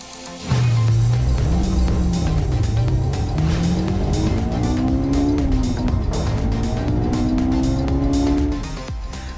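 A 2025 Toyota 4Runner Trailhunter off-road SUV drives close by, its engine revving up and settling through several rising and falling pitches, with a faint tire squeal, loud and steady until it fades at the end.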